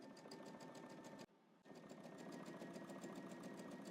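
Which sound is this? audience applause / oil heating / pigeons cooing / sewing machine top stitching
sewing machine top stitching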